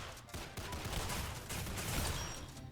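Shotgun blasts in a first-person shooter game, a dense run of overlapping gunfire bursts with rapid repeated shots across a busy, noisy battle mix.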